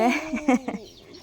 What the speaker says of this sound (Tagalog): May manok din.